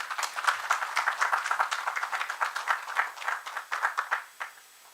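Audience applause at an international temple food symposium in Korea, a steady wash of many hands clapping throughout, fairly close and alone without talk, tapering slightly at the end.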